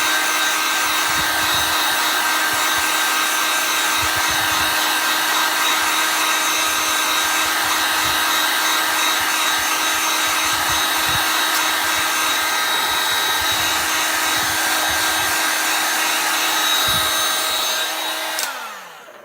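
A heat tool blows steadily while drying a sparkly chalk transfer craft, giving a loud, even whooshing hum close by that runs without a break and cuts off near the end.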